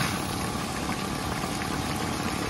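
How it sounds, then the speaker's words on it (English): Compressed air forced through the engine cooling system of a 1989 Mercedes-Benz 560SEL during a flush, producing a loud, continuous bubbling, gurgling hiss at close range. "You do this with the compressed air until everything is clear."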